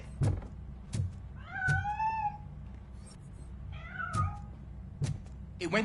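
A cat meows repeatedly in the RoboCop video game, two long wavering meows between sharp thumps and knocks, heard close over a low steady background hum.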